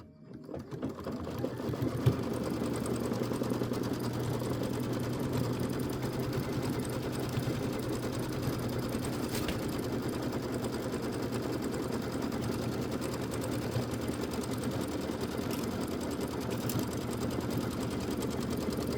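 A sewing machine stitches a Kimberbell Hello Sunshine traditional pieced quilt block, starting up and then running in a fast, even, continuous whir at close range with no talking.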